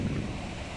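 Strong wind buffets the microphone at Isipingo Beach, a steady loud rush with low rumbling gusts, with surf from the rocky shore blended underneath.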